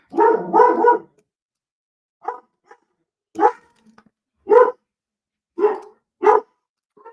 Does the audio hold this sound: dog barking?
yes